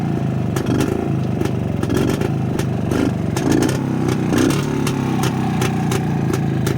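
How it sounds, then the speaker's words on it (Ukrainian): A Pannonia motorcycle engine, still being broken in, idles steadily and loudly up close after starting, with a rhythmic chugging and occasional rattling clicks, no voices over it. "Ось така робота на холостих."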